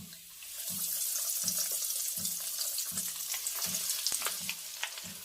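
Chicken legs sizzle steadily in hot frying oil, a dense bright crackle that holds throughout, with faint rhythmic low thumps repeating underneath.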